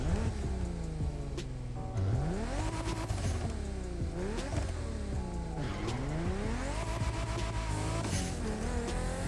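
A Toyota Supra MK4 engine in The Crew Motorfest revs repeatedly, pitch sweeping up and down through gear shifts, with tire squeal, loud and continuous throughout.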